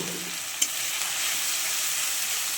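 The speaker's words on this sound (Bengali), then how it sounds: "এবার মশলাটাকে ভালো করে কষিয়ে নেব" Spice paste of tomato, ground coriander, cumin, Kashmiri chili and turmeric with green chili paste fries steadily in a pan, a continuous loud bright sizzle with one brief clink of a spatula near the start.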